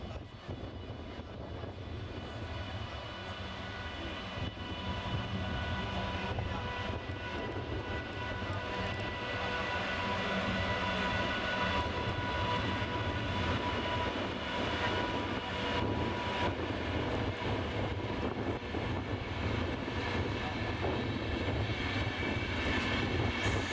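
A train in Finland on a run past, a heavy, rising rumble that builds and then holds as a loud, continuous roar for the rest of the passage.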